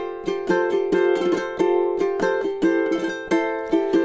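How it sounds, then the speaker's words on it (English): Acoustic guitar strummed in an intermediate rhythm pattern through complicated chords, with bright ringing chord strokes in a steady, syncopated pulse played close and alone. "the intermediate strumming sounds like this with these complicated chords."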